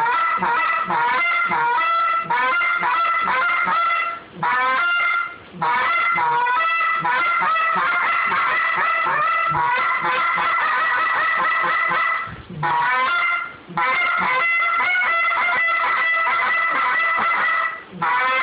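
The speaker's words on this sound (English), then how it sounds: "one thing I want to add about our goose calls is you see him blowing it with 2 hands" An Insane Custom Calls goose call blown by hand, loud close honks and clucks in rapid rhythmic bursts separated by short pauses, sounding like a calling goose, with no other sounds.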